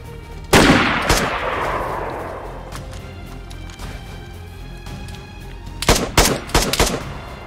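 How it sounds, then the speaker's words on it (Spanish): Gunfire from several shooters in DayZ on the Namalsk map: a loud near shot with a long echoing tail, scattered distant pops, then a rapid close burst of several shots near the end. "Está disparando uno de lejos, otro de cerca"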